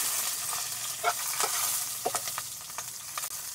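Black mustard seeds, a curry leaf and green chilies frying in hot oil, a steady close sizzle with crackles and pops and brief stirring scrapes, no talking.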